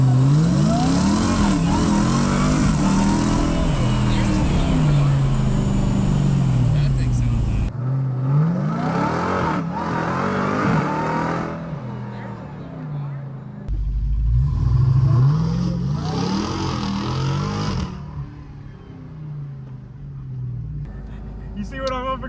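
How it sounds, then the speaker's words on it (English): Highly modified Porsche 911 Turbo S making about 800 wheel horsepower, its engine revving and accelerating loudly through rising and falling sweeps, close by, with people talking over parts of it. "So this 911 Turbo S is making 800 wheel horsepower. It is highly modified."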